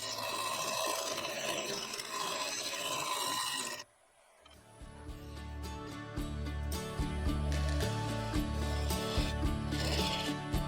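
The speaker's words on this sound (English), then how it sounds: "I swapped to the skew chisel to refine the curve in the segmented rings, blending it down into the resin midsection" A skew chisel cuts spalted beech and epoxy resin on a spinning lathe, a steady, loud broadband scraping hiss for about four seconds before an abrupt cut to music with low pulsing tones.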